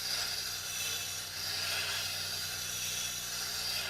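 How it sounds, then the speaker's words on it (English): Steady broadband grinding hiss of a steel gouge pressed hard against a Tormek sharpening machine's stone, continuous and close with slight swells as the tool moves, no voices. "When grinding a gouge to a new shape for the first time, you need to press harder to remove the surplus steel."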